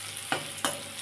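Food frying in a pan sizzles steadily and quietly, with two brief scraping stirs of a spatula close by.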